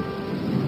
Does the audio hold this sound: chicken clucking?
no